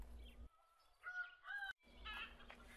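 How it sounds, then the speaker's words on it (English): Farm chickens give a few short, close clucks and honk-like calls in a quiet setting, separated by brief silent gaps. "I begin the day with the chickens."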